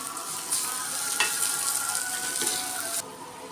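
Crushed ginger and chilli roasting in a pan for a Punjabi-style green pea kadhi give a steady, close sizzle throughout, with a few brief louder crackles and a slight drop in intensity near the end.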